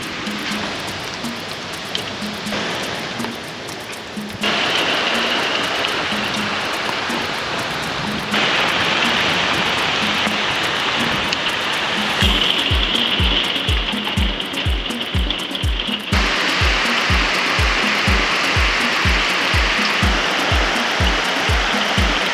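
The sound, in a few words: rain falling during a thunderstorm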